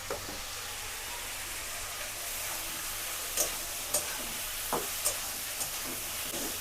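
Spices and cauliflower fry in a pan as they are stirred, giving a steady close sizzle broken by a few sharper scraping strokes of the spoon.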